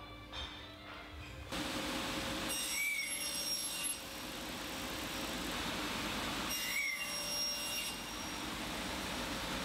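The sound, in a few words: sliding table saw cutting wood at 45 degrees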